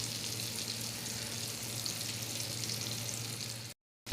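Shipla fish fry in a pan with a steady, dense sizzle that is close and even throughout, then cuts off abruptly near the end, with no voices.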